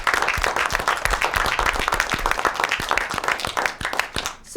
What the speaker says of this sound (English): So I'd like to have a round of applause for our staff.